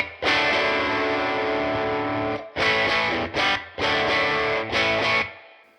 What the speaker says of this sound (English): it's bringing the low end back with a low end boost after the distortion so it doesn't get flubby